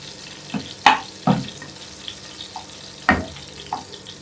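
Food fries in a pan on a home stove before lentils go in, with a soft steady sizzle broken by several sharp clinks and scrapes of a utensil against the pan, close and without talk.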